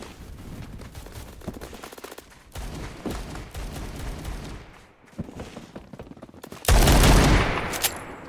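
Revolver shots from an MP412 Rex fitted with a cowboy barrel in Roblox Phantom Forces, sounding as sparse single reports spaced a second or so apart, ending in a louder, heavier blast near the close.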